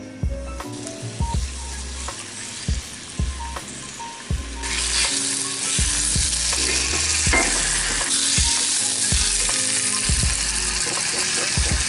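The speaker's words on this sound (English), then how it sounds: "Let's let this get hot before I pop these in." Pork chops fry in hot oil in a pan, with a strong steady sizzle swelling loudly partway through, accompanied by repeated clanks and taps of utensils against the pan.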